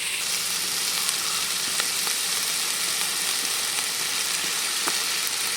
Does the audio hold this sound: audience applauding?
no